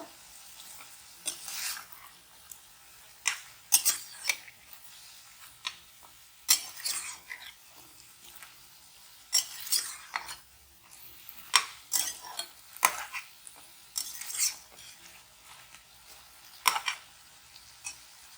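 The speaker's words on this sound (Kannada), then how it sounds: "ಈಗ ನಾವು 1 ಟೇಬಲ್ ಸ್ಪೂನ್ ಅಷ್ಟು ಬೆಳ್ಳುಳ್ಳಿ ಶುಂಠಿ ಪೇಸ್ಟ್ ಹಾಕೊಳ್ಳೋಣ. ಇದು ಚೆನ್ನಾಗಿ ಫ್ರೈ ಮಾಡಬೇಕು." Ginger garlic paste frying and being stirred in a pan while chilli chicken is cooked, with repeated short scraping and clinking spoon strokes over a faint sizzle, close and fairly soft.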